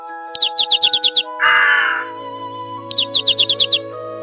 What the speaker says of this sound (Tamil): அவை தங்கள் வாய் திறந்து சிச் சிச் என்று மெதுவாக கூவின.